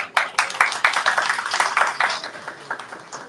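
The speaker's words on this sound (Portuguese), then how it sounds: "Palmas para o Cláudio." A small audience at a lecture on climate crises, human rights and the Amazon claps for the artist Cláudio, with distinct individual claps in a loose, uneven rhythm that fade after about three seconds.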